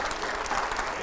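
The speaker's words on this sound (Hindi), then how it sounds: "चलिए, जोरदार तालियां हो।" Steady, dense applause from an audience at a televised political panel discussion with editors, continuous and even throughout with no voice over it.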